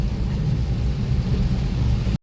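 Heavy rain drums on the roof of a parked car during a downpour that has flooded the streets of Dhuri, Punjab, heard from inside as a dense, loud, steady low roar that cuts off abruptly at the end.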